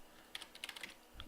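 Quick keystrokes on a computer keyboard as a command is typed into an Ubuntu Server terminal, a short run of soft, irregular clicks close up and fairly faint, with no talking.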